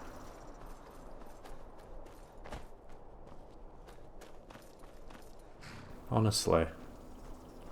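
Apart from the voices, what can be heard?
horse hooves in video game Skyrim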